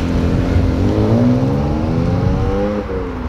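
A BMW 335i with a throaty exhaust hums and rises in pitch as the engine revs, loud and close, then eases off near the end, with no talking.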